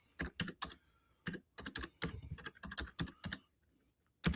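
Someone types on a computer keyboard in quick, uneven bursts of sharp key clicks, pausing briefly between runs, close and clear with no talking.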